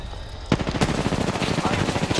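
Rapid automatic gunfire rattles through a video game firefight, a loud, dense, continuous burst that hammers on for about two seconds.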